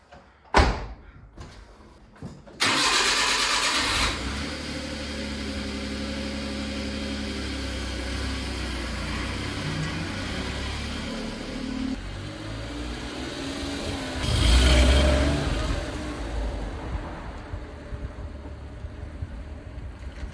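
A 2002 Suzuki Carry mini truck has a door slammed, then its small engine starts and holds a steady running drone, with a brief rev as it pulls away on a test drive.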